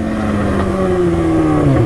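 Motorcycle engine revving up and holding steady up close, a loud continuous throaty drone whose pitch climbs and then eases slightly, with no talk over it.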